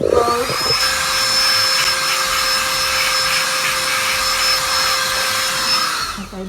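Compressed air hisses steadily and loudly for about six seconds while blowing clean a Glowforge laser cutter circuit board, with a whining tonal edge over the broadband rush and no talk.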